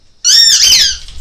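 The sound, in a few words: dog squeaky chew toy being squeaked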